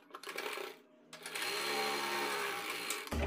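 A sewing machine stitches a strip onto a blouse, starting with a few short bursts, pausing briefly, then running in a loud continuous stretch that ends abruptly.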